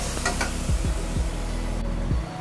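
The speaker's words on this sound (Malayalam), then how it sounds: "ഇനി നമ്മൾ എടുത്ത് വെച്ചിരുന്ന ടൊമാറ്റോ പ്യൂരി ആഡ് ചെയ്ത് കൊടുക്കാം. ഇത് നന്നായിട്ട് മിക്സ് ചെയ്തെടുക്കാം." Tomato puree is stirred into sautéed masala for chole in a pan, with a continuous frying sizzle and several scraping strokes of the spoon, close and fairly loud.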